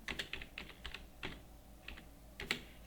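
Keystrokes on a computer keyboard while an address is typed in Tally Prime accounting software, coming as short bursts of close, crisp clicks in irregular clusters separated by brief pauses, with no talk.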